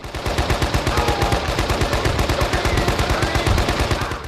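A turret machine gun fires in the Men of Valor war video game, a loud, unbroken stream of rapid rhythmic shots lasting several seconds, with no voices.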